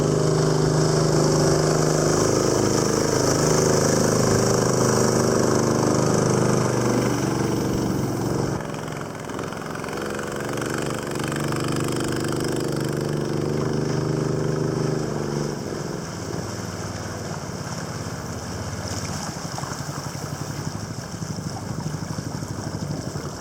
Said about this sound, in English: see if we can crank her up, run her